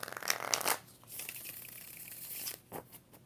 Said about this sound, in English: All right, 4 shuffles.